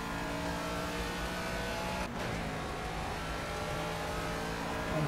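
A Ginetta G40 race car in the Project Cars racing game at Brands Hatch, its engine droning loud and continuous at high revs, with a brief dip like a gear change midway.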